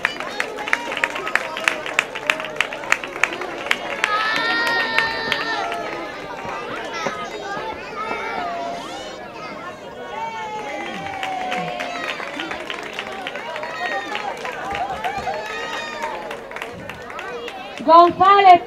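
Audience clapping and cheering at an end-of-year school ceremony, with steady applause and crowd hubbub running throughout, a voice announcing over it, and a louder burst near the end.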